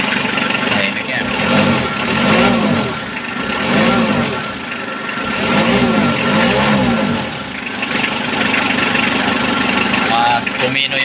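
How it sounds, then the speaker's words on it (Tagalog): A 4D56 diesel engine idles steadily with a smooth, even rumble, rising and falling slightly in a regular pulse across the whole stretch, close by with no talk over it. "hindi masyadong vibrate yung kanyang makina"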